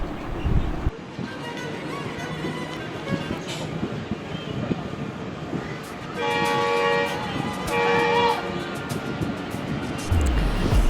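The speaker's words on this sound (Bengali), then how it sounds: "হাওড়া থেকে কিন্তু ট্রেনটা এবার ছেড়ে দিল।" Train pulling out of Howrah station, a steady rumble of wheels and rail noise with a faint horn-like tone, heard loud and close from inside or beside the carriage, with voices in the background.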